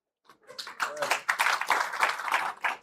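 Audience applause for university students at a student gathering with President Barrow, a steady crowd of many hands clapping that swells quickly and holds for a few seconds.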